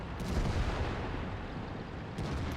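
A tank cannon fires in World of Tanks combat, a dense, rumbling blast that fills the moment and then settles into a roaring wash of noise, with a second, sharper burst near the end.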